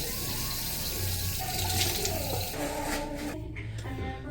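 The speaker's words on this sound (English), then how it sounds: "Wash or wet your hands. And then you go in with the wet hands and emulsify." Water runs steadily from a tap while hands are wetted before washing hair, a continuous rushing splash with a few small changes in tone as the hands move through the stream.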